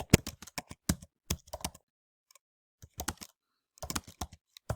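Fingers tap a computer keyboard nearby in quick irregular bursts of crisp clicks, pausing in near silence between flurries, with no voice over them.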